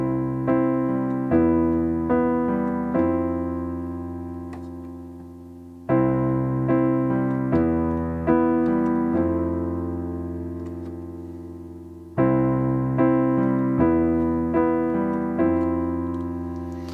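Solo piano repeats the verse chord progression of a song three times, with steady broken chords ringing close and even throughout.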